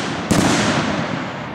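One sharp consumer firework bang cracks out close and loud at a fireworks show in Velsen-Noord, Netherlands, then trails off into a crackling, hissing decay.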